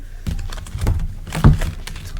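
Tarot cards being shuffled by hand, a run of soft irregular riffles, taps and thunks close by with no talking.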